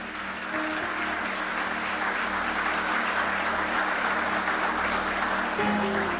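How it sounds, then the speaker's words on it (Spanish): Congregation applauding during a Yom Kippur sermon, a steady blanket of clapping from many people in a hall, moderately loud and even, with a low hum of amplification beneath it. "¿Cuántos aplauden al Señor?"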